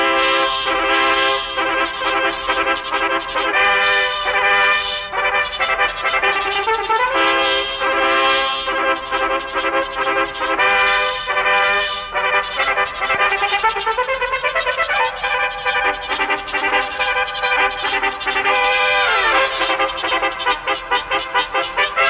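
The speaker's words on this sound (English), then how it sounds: "longer delays are quite noticeable in music. They give an echo effect." Orchestral music plays continuously at steady loudness, with its upper frequencies held back about three tenths of a second behind the rest, giving a smeared echo effect throughout.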